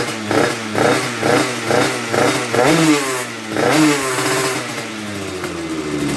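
An MBK 51 hybrid moped's small two-stroke engine revs in repeated short blips while warming up, the pulsing rises and drops close and loud, easing into a steadier rev toward the end.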